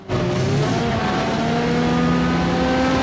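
A repaired Uragan military vehicle roars on a test drive, its engine starting abruptly and then holding a loud, steady growl with rising tonal whine throughout.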